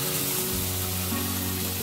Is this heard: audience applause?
no